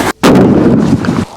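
A loud, close gunshot boom hits hard, then a heavy rumbling roll and echo that lingers for over a second before cutting off.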